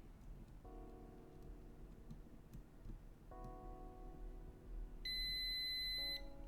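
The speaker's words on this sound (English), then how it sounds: "we connect any part of the circuit here and it should theoretically beep if it's, you know, connected" Continuity tester on a Ruby amplifier circuit build gives a series of steady electronic beeps, sustained tones that start and stop in turn, one higher-pitched beep near the end, over a quiet background hiss.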